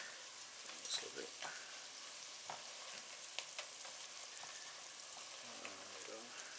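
Onions fry in a pot for a smoked ham hock winter vegetable stew while being stirred, giving a soft, constant sizzle broken by scattered scrapes and taps, close but quiet.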